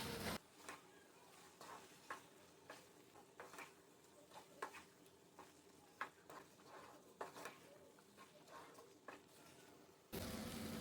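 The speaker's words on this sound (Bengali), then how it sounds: "একটু পরপর নেড়ে দিতে হবে যাতে তলায় লেগে না যায়" A mashed red lentil and egg mixture is stirred in a pan at regular intervals, giving soft, faint scraping strokes over a quiet background hiss.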